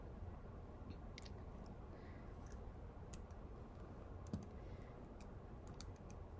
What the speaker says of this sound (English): I'm typing it in my calculator